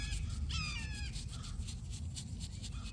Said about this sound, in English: So this hawk is talking to me right now